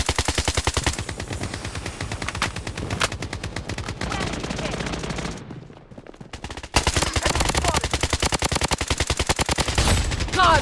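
Rapid automatic gunfire rattles almost continuously in the shooter video game Blood Strike, loud and dense, with a brief lull midway before heavy firing resumes.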